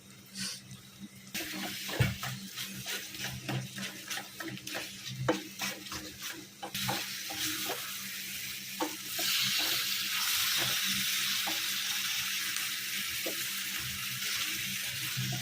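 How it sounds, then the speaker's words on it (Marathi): Roasted eggplant bharit, a Khandeshi dish, pressed and mixed with a spoon in a pan of browned masala over low heat: repeated sharp scraping clicks and soft squelches over a steady frying hiss that grows thicker partway through. "या भरताला आता चम्मचने दाबून दाबून मिक्स करायचं"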